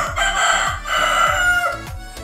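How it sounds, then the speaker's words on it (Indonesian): Neighbourhood rooster crowing nearby, one long loud cock-a-doodle-doo with faint chicken clucks and low thumping underneath, no talk. "suaranya ada suara kayak jago berkokok gitu ya teman, karena di sini banyak ayam"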